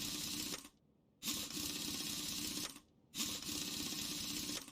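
Lug nuts are tightened with a power tool in Car Mechanic Simulator 2021, three sustained buzzing whirs each lasting over a second, separated by short silent gaps, steady and mechanical.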